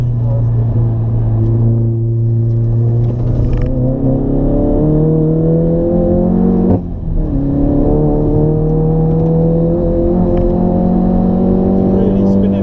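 An Audi race car accelerates hard with its wheels spinning, the engine loud and close as it climbs through the gears in rising, whining sweeps, with a brief drop at a shift midway.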